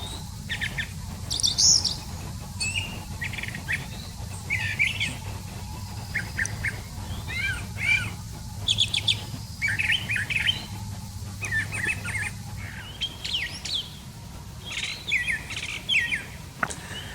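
Birds in the forest around Celina Lake in Hoosier National Forest chirping and calling repeatedly in quick bursts, fairly close and clear over a low background hum.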